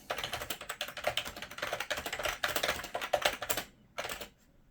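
An old AT-style computer keyboard with soft keys being typed on: a steady, rapid patter of close keystrokes that stops for a moment, then a final short burst.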